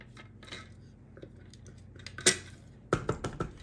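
Metal spoon clinking and scraping in a bowl while mixing chopped seasoning into raw beef, a few light clatters and one sharper knock.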